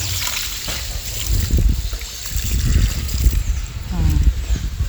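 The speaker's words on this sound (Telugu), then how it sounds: "నీళ్ళు వేసేయండి బాగా లెవెల్గా నీట్గాను." Water poured over a vermicompost bed, a steady trickling, splashing flow running through the whole stretch at close range, with low thuds of handling and a voice speaking over it.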